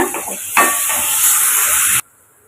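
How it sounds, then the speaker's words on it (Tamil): Tomatoes sautéing with salt in a hot pan for a South Indian fish curry, giving a loud, steady hiss and sizzle that swells after a brief lift and then cuts off abruptly. "தக்காளிக்கு தேவையான உப்பு போட்டு வதக்கி விட்டுக்குங்க"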